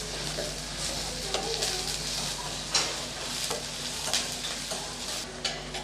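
Chopped onion and green chili sizzle steadily in a pan for cabbage manchurian while a spoon stirs and scrapes in occasional light clicks, close and continuous.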